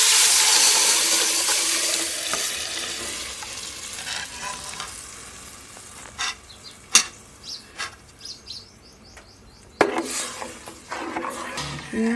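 Dissolved masala and tamarind water poured into a pan of south Indian fish curry, starting with a loud rushing splash and sizzle that fades into softer bubbling, with scattered clinks and stirring knocks against the pan.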